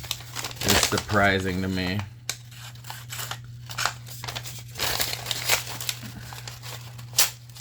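A Gerber pocket knife, unsharpened for a while, slices into a piece of paper, giving short crisp crinkling and tearing scrapes that follow a man's speech.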